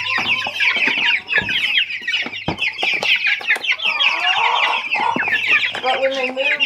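A flock of meat bird chickens clucks and chirps continuously up close, a busy overlapping chatter of many birds on a farm.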